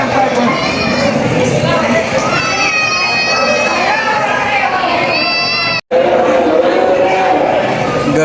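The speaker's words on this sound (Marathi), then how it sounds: "गर्दी भरपूर आहे इकडं. बघू शकता तुम्ही." A dense crowd of devotees at the Biroba temple, a loud continuous babble of many voices with shouts and children's cries close around, briefly cut out for an instant near the end.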